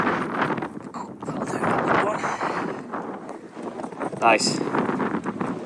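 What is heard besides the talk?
strong wind on the Shetland Islands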